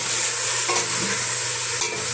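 Meat sizzling steadily in a hot pan, browning for macaroni, a constant crackling hiss with occasional scraping from stirring.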